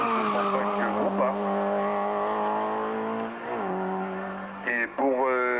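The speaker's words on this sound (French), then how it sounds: "nous sommes au numéro 77 qui passe devant nous, Pascal Siméon qui pilote le 205 Groupa" A Peugeot 205 Group A race car at a 1995 hillclimb in Hébécrevon roars past close by, its engine note holding high, then dropping and climbing again as it shifts, with faint voices underneath.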